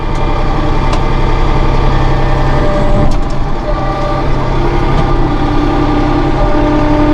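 Loud, steady diesel engine of a 2016 Massey Ferguson 1736 Premium Cab compact tractor running under throttle, a close, continuous rumbling drone.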